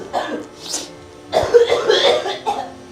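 Several close, harsh coughs, one short cough followed by a longer rough fit of coughing.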